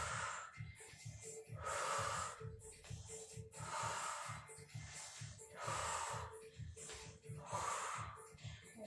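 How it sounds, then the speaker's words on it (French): Someone doing a chair-based HIIT workout breathes hard in a steady rhythm, with about five strong, noisy exhale-inhale cycles close to the mic over roughly nine seconds. "J'inspire et je souffle."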